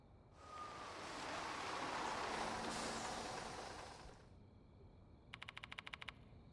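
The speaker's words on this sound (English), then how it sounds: "I don't know what that sound effect from the bus is, but it just sounds so cute." A bus pulls up in a horror video game with a broad whooshing rush that swells and fades over several seconds, then a rapid light chiming flutter at the end, heard alone.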